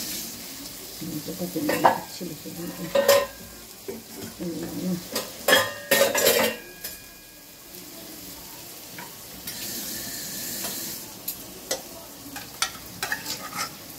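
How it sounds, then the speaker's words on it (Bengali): Boiled mutton pieces drop into a hot pot and are stirred with a metal spoon, giving sharp clanks and scraping against a low, steady sizzle, with a run of irregular knocks followed by quieter stirring. "এবারে আমি মাংসগুলো তুলে দেবো।"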